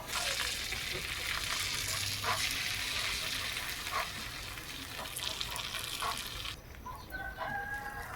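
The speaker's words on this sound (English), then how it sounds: "I'm going to add my cooking oil in. And then I'm going with my eggs." Eggs frying in cooking oil in a pan on a chilly early morning, a loud continuous crackling sizzle with a rooster crowing in the background.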